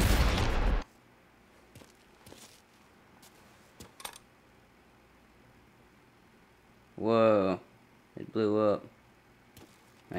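A rocket launcher fires in Mafia 3: one loud, harsh blast at the very start that cuts off quickly, then near silence broken by a few faint clicks, and later two short bursts of human voice.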